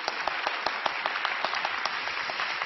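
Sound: applause welcoming pastor in church

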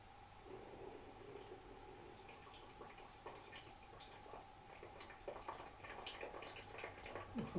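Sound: pressurised water draining from radiator pipe

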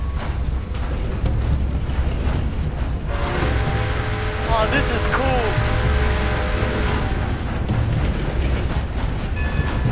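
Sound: train driving in the video game Red Dead Redemption 2

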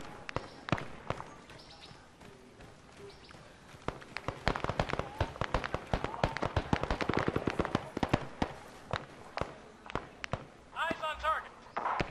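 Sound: distant gunfire in video game Arma

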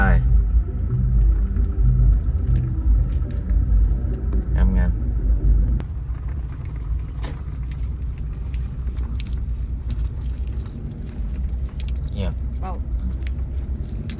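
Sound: car being parked

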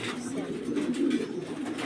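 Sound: pigeons cooing at a pigeon farm

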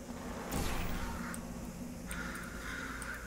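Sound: bird cawing in video game Portal Revolution

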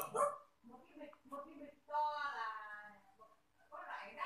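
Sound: dog barking

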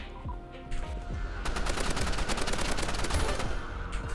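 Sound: assault rifle gunfire in Roblox Rivals video game

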